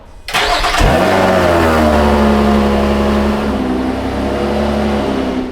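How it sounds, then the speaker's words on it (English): A Formula 1 showcar engine cold-starts with a brief starter crank and then bursts loudly to life. It settles into a steady, rumbling high idle that eases slightly toward the end, close to the microphone. "Should we do a cold start? Let's do a cold start."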